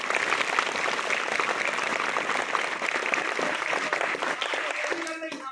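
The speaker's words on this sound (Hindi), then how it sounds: "बजाओ एक बार ताली" A crowd of students claps loudly together in a school assembly, dense, sustained applause filling the space for several seconds before a voice begins speaking as it fades.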